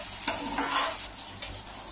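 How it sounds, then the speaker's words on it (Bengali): Spice masala stir-fried in hot oil in a pan for a Bengali fish curry, giving a steady close sizzle with a few soft scraping strokes of a spatula over about two seconds. "এবার এটাকে আমি কিছুক্ষণ কষবো, যতক্ষণ না মশলার থেকে তেলটা আলাদা হচ্ছে।"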